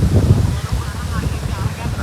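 Strong gusty wind buffets the microphone in an open farm field near the sea just before rain arrives, a loud low rumbling roar with shifting gusts and no clear voices.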